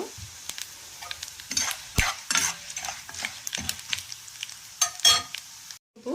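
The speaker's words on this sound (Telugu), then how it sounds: "వేగింది కదా కొబ్బరి దీంట్లో వేసి ఒక ఐదు పది నిమిషాలు పచ్చివాసన పచ్చివాసన పోయేంత వరకు వేయించుకోవాలి" Grated coconut fries in a pan while being stirred, giving a steady crackling sizzle punctuated by sharp scraping clicks of a spatula, fairly close and without any voices.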